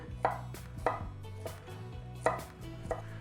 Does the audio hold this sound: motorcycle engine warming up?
no